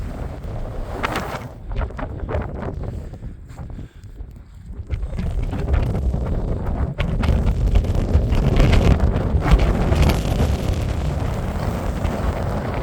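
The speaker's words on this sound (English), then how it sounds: "that wind. It's biting. February wind." Strong, biting February wind on a steep mountain slope at Slievanea Northeast in County Kerry, buffeting the microphone in loud roaring gusts that swell and ease without letup.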